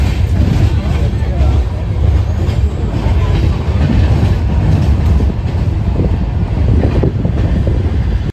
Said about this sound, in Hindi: बस थोड़ी देर में ट्रेन स्टार्ट होने वाली है